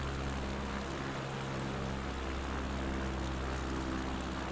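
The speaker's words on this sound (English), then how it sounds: "just up here flying a little bit, doing some Piper Cub action" A Piper Cub propeller plane flying in Microsoft Flight Simulator 2020, its engine a steady, even drone with a constant broadband whoosh and no voices.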